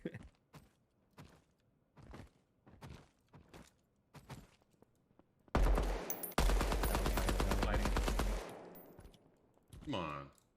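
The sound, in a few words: SMG gunfire in the video game Deadrop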